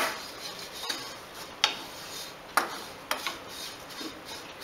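Rice flakes (poha) dry roasting in a pan for a sweet kesari, heard as sparse, sharp scraping clicks of a utensil against metal at irregular intervals over a quiet, faint background.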